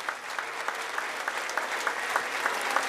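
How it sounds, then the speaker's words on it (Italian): Steady applause from a crowd at an outdoor social-initiatives closing ceremony in Castelporziano as children leave, with sharp claps rippling evenly throughout and moderately distant. "Lo facciamo intanto un altro applauso a questi ragazzi mentre escono."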